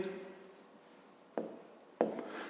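Pen strokes on paper as a math solution is written out by hand, two short scratchy bursts near the end after a quiet stretch of faint room tone.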